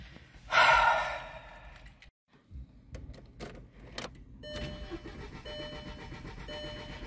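A broken-down car's engine cranks and catches after a jangle of keys and a sigh, then settles into a rough idle that hums on to the end, close by with no clear speech.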